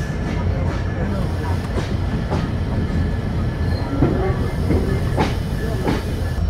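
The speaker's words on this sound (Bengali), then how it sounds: "আমাদের ট্রেন দৌলতপুর স্টেশনে তার নির্ধারিত যাত্রাবিরতি শেষ করে আবারও যাত্রা শুরু করলো" Simanta Express night train restarting from Daulatpur station after its scheduled stop, heard from inside: a loud, steady rumble of wheels and carriages with repeated clacks and occasional squeals.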